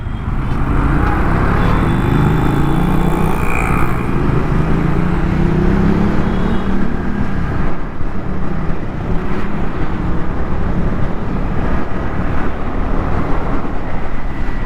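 Honda CB300R motorcycle accelerating on an open road, its engine a steady loud drone with rising pitch under constant wind rush, no speech.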